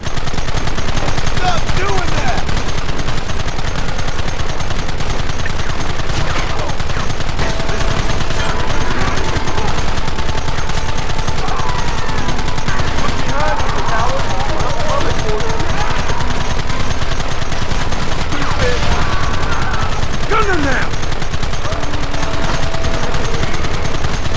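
Sustained gunfire in the Western video game Red Dead Redemption, rapid overlapping shots and bursts over a dense, loud background of game noise, continuous throughout with voices in the mix.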